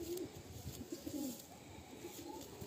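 A Madrasi old line pigeon coos softly in a loft, a faint close run of low rolling coos with a few brief rustles.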